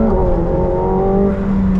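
A McLaren 720S surges hard in second gear, its engine note climbing in a loud, close, continuous rising roar over about two seconds, with no talking.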